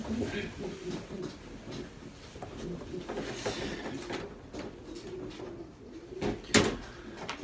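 Low, soft pigeon coos repeat in a racing-pigeon loft over a murmuring indoor background, with a few faint knocks and rustles.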